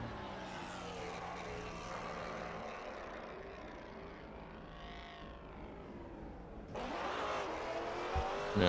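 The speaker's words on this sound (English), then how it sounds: "As I hear somebody ripping it down in their Maserati." A Maserati race car in a multi-class racing game at Silverstone speeds past, its engine note rising and sweeping by at steady volume before a louder, brighter surge near the end.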